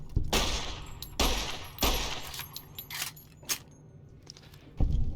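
Gunfire in Fallout New Vegas during a gecko hunt: a string of loud, close shots at irregular intervals, about six blasts over five seconds, each a sharp crack with a short ringing decay, separated by fainter clatter.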